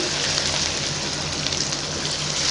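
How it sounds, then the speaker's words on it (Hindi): A medium glass of water pours into an arbi gosht curry, a continuous splashing gush heard on its own. "तो मैं इसमें मीडियम साइज़ का 1 पानी का गिलास डालूँगी।"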